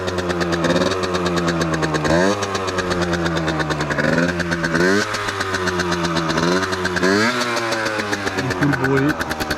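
A Yamaha DT 50cc two-stroke motorcycle with an aftermarket exhaust starts and runs, its high, buzzy engine note holding loud and close and rising in several short blips across the whole stretch.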